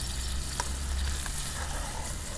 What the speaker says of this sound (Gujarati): મસાલાને 2 મિનિટ જેટલો પાકવા દેવાનો છે તેલમાં